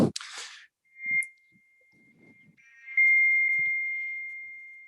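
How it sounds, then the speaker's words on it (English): Electronic beeping in the background of a sports podcast recording: a steady high tone that sounds briefly, drops out, then returns and holds for about two seconds, with short bursts of noise and faint knocks around it. "there's some beeping going on"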